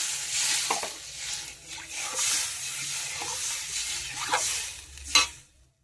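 Water poured into a hot pan with oil, salt and turmeric while cooking hilsa fish with brinjal, giving a steady sizzling hiss with stirring scrapes that fades out near the end.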